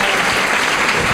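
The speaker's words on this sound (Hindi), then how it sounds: "जोरदार तालियां बजा दें।" A church congregation gives loud, dense applause at an Easter Day service, a continuous wash of many hands clapping at once with no pauses and no speech.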